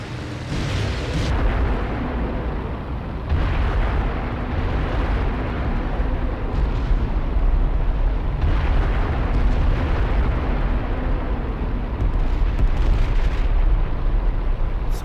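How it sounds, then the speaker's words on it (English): Aircraft rockets fired and exploding in the IL-2 flight simulator: a dense, loud, unbroken roar of engine and blasts with a few heavier booms, and no voices. "What could possibly be easier than firing rockets at the enemy?"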